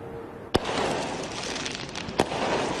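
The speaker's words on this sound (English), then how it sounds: "Illegal fireworks light up the night sky in Los Angeles and here at home." Illegal fireworks go off in the Los Angeles night, two sharp, loud bangs about a second and a half apart over a steady outdoor background rumble.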